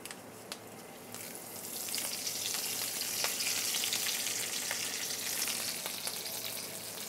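Curry leaves sizzle and fry in hot oil in a pan, a loud, steady hiss with scattered sharp pops and crackles, close up with no voices.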